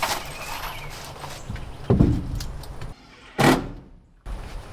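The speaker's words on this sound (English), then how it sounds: "Alright, close the door" Wooden door of a newly built backyard chicken coop swinging shut, with two distinct knocks and thuds about a second apart over a steady outdoor background, fairly close.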